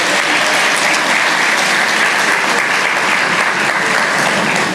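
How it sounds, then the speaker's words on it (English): Large audience at a 2024 college graduation ceremony applauding loudly and continuously, a dense, even roar of clapping. "Round of applause for him again."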